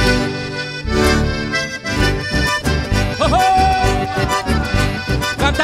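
A lively chamamé band plays a bouncy, steady rhythm with accordion-like melody over bass and percussion, full and loud, with no singing.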